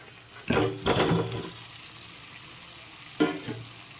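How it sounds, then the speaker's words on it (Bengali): Potatoes dropped into a pan of spiced masala for a vegetarian aloo dum give short bursts of sizzling and stirring clatter, two close together at first and another later, with quieter frying between. "আরও 2 মিনিট নেড়েচেড়ে মিশিয়ে নিয়েছি। এবার দিয়ে দিচ্ছি আলুগুলো।"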